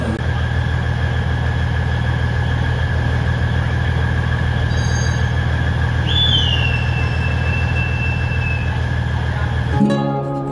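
The Batara Kresna passenger train departs Wonogiri station with a loud, steady diesel engine drone and low rumble, joined by a brief rising whistle-like squeal partway through before the sound cuts off abruptly.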